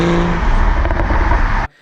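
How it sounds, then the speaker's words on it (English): A BMW X3 M40i's engine roars loudly under hard acceleration with a raspy, throaty sport exhaust note, cutting off abruptly into near silence. "It just really does sound very sporty due to the sport exhaust that BMW fitted to the M40i."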